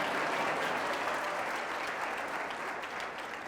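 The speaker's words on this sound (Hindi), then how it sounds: "ताली बजा सकते हो प्रभु के लिए।" An audience at a church service claps steadily, a dense, sustained wash of applause from a crowd that holds at even loudness for the whole stretch.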